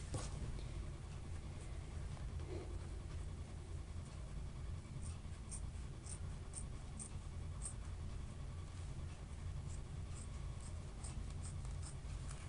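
Tool scoring lines into leather while making a leather bracelet, a faint repeated scratching stroke close up over a steady low background rumble, with no talking.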